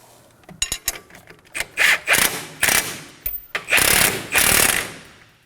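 Strut nuts being snugged down on a 2016-2020 Kia Sorento front strut and spring assembly, heard as bursts of power-tool rattle and ratcheting, several short runs with pauses between, close and loud with no talk.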